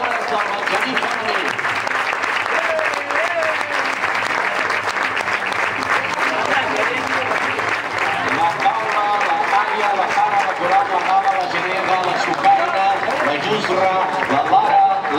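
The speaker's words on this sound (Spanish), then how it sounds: "aquest fort aplaudiment per la Juno i per la Salma, entrenadores del Benjamí Femení" Loud, sustained applause from a crowd at a sports club's season presentation, honouring the coaches of the girls' youth team, with cheering voices and faint talk mixed in throughout.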